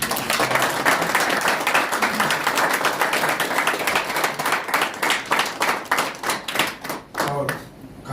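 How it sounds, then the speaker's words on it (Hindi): Audience clapping at a product awareness session, a dense burst of many hands that thins toward the end into scattered individual claps, fairly close and loud with a murmur of voices underneath. "उनको तालियां तो होनी चाहिए।"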